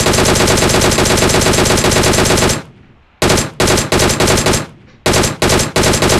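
Rapid automatic gunfire from a video game battle royale match rattles in loud, dense bursts: a long sustained volley, a brief pause, then several short separated bursts, close and without speech.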